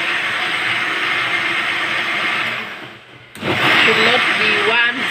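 A blender runs loud and steady while spiced shakshuka is being made, cutting out briefly and then starting again, with a voice heard over the motor.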